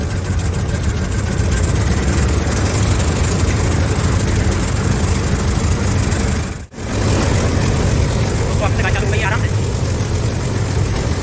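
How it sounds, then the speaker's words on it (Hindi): A combine harvester engine running steadily after a restart, a loud continuous drone with a brief dip partway through, close and unbroken, with no one talking over it. "तो वापिस से गाड़ी चालू हो गई है"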